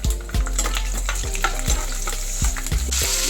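Garlic fries in a pan with spinach gojju ingredients, a steady loud sizzle broken by regular scraping strokes of a stirring spoon.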